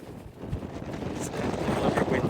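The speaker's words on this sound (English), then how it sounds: "it's certainly windy." Steady wind buffets a microphone on an exposed hilltop at a wild camp near Haystacks, a continuous rushing roar that swells slightly louder toward the end.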